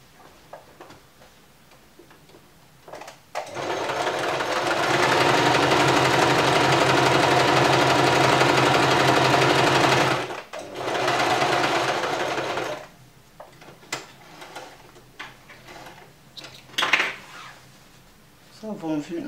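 Zigzag stitches are sewn on fabric with a sewing machine, heard as two bursts of fast, steady mechanical whirring. Quieter clicks and handling noises fall before, between and after them.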